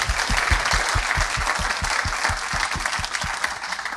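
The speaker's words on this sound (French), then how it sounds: "on peut les applaudir également" An audience at an awards ceremony applauds finalists with steady, dense clapping that runs unbroken throughout, many hands together in a large room, loud and even with no voices over it.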